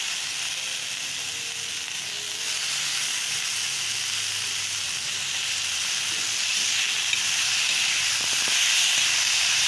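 Chopped tomato goes into hot spices roasted with turmeric, chilli and salt for a spicy chutney. It gives off a steady, loud, close hiss and sizzle that grows slightly stronger over time.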